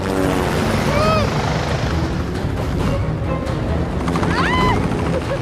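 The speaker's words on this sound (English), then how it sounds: "two bloody helicopters and two trucks just driving and flying towards us, creating a massive sandstorm" Heavy, steady rotor noise from two helicopters flying in over desert sand, loud and close, with a couple of brief whooshing tones rising over it.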